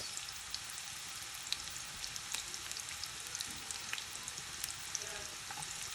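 Steady, bright sizzling of onions frying in a hot pan, a dense crackle with scattered pops, no voices.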